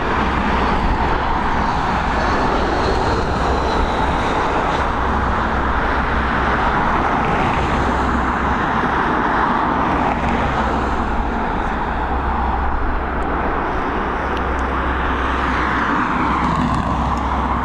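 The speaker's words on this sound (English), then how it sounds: "She's an Airbus A319 operated by British Airways, coming in from London Heathrow" British Airways Airbus A319 arriving at Dublin Airport from London Heathrow, its engines making a steady, broad roar throughout that holds at a constant loud level without any clear rise or fade.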